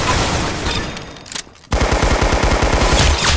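Rapid automatic gunfire in the video game Arsenal, dense loud bursts that pause briefly near the middle before resuming in a steady stream of shots.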